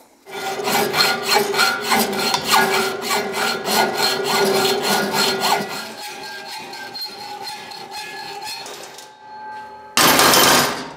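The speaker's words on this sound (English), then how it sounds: "I'm gonna get my other hacksaw." A worn hacksaw cuts through aluminum in a long run of rapid, steady rasping strokes, loud and close, fading to thinner scraping before a brief harsh burst at the end.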